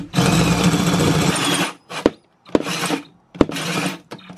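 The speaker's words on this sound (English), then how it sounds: "if you're trying to drill a hole here" A power drill fitted with a hole saw cuts into a van body, a loud grinding roar lasting over a second, then several short bursts broken by sharp clicks and pauses.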